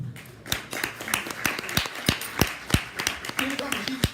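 Audience clapping for a panelist at a live event in DC, scattered and uneven claps that are fairly close, with a voice speaking faintly underneath.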